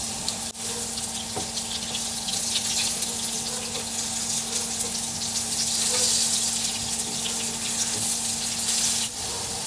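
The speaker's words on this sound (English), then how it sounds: "So once we fry on one side, you just turn it over and fry on the other." Potatoes frying in oil in a pan while cooking chicken jalfrezi, giving a steady, continuous sizzle with a faint hum underneath and no talking.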